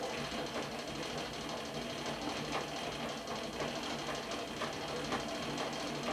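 A Victrola VV XI phonograph, a rare factory-painted example, being hand-cranked: a steady, continuous mechanical whirring and ratcheting with faint rhythmic clicks, close and even throughout with no talk.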